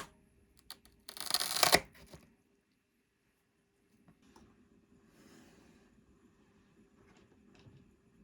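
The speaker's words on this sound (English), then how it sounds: "Let's go ahead and snip this here." Scissors cut through an Alocasia leaf in a single crunchy, squishy snip lasting under a second, close and fairly loud, followed by faint rustling of the plant.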